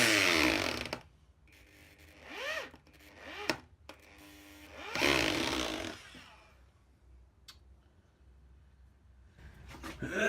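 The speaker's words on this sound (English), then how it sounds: "It's really starting to grind this away." A power tool grinds metal for anvil brackets, rising and falling in whining pitch-sweeping bursts with a couple of sharp clanks, a louder grinding surge midway, then quieter lulls.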